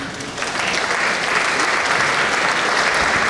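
A large crowd at a college closing event claps loudly and continuously as a guest is called to the stage, a thick, even roar of applause that swells just after the start.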